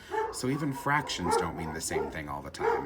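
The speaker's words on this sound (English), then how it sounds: "I think you can probably hear the dogs downstairs." Dogs barking and yipping downstairs in a home, a string of excited barks and whimpers heard under a person speaking close to the microphone.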